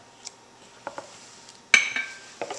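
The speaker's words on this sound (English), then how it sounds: "I just like stirring it and getting it all" A spoon stirs thick cream pie filling in a metal pot, giving soft scraping and a few sharp clinks against the side, close and fairly quiet with brief pauses between strokes.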